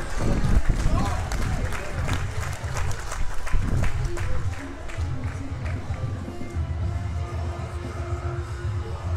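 Crowd applauding at a Danish powerlifting championship deadlift event, a loud burst of clapping and cheering that fades into a steady murmur with an announcer talking over it.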